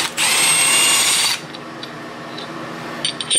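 A power tool, likely an impact wrench, breaks loose a camshaft phaser bolt on a Mercedes M156 engine: one loud continuous burst of about a second, then quieter workshop clinks and rattles.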